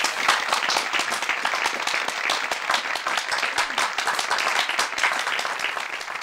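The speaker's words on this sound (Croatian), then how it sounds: "Aplauz za hladnu ministricu" Dense, steady audience applause fills the whole stretch, a continuous wash of many hands clapping at close range with no break or fade.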